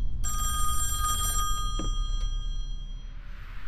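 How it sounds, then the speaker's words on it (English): An old-style telephone bell rings loudly and metallically in the Song of Horror horror game, one sustained burst followed by a soft thunk and a quieter room tone. "Phone. Should I answer?"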